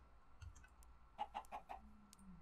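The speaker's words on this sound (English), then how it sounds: "I hear chickens." Faint Minecraft chickens clucking in a quick series of four or five clucks, with a few softer scattered sounds before and after.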